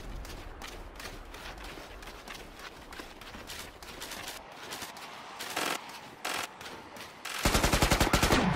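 Rapid automatic gunfire from the zombie shooter game Killing Floor 2, sustained bursts of steady rattling shots that grow louder and denser toward the end.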